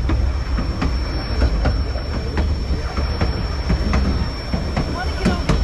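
The White Pass train rolls past after a landslide, a loud, steady rumble with rhythmic wheel clacks and occasional squeals, heard close from trackside with people talking nearby.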